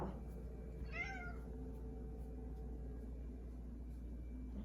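A cat meows once as it follows someone around, a single short call heard over a low, steady indoor rumble, then only the hum continues.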